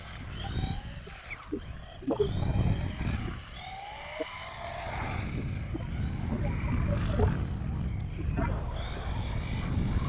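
An Absima AB 3.4 RC car with a new motor whines as it drives, its pitch sweeping up and down with acceleration, along with scattered crunchy bumps and outdoor background noise at moderate distance.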